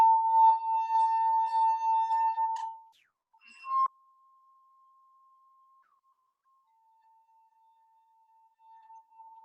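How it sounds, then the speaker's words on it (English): Wine glass partly filled with water, rubbed so it resonates: a clear, sustained pure ringing tone that wavers for a few seconds, stops briefly, then returns as a thin, quieter hum fading in and out. "So we're vibrating the glass, which is vibrating the water down there and producing sound inside of the air in our wine glass."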